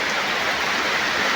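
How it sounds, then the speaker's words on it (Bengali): Rain falls outside a home as a dense, even hiss of drops. It is loud and continuous throughout, with no voices. "দেখছো বাইরে এখন বৃষ্টি পড়ছে"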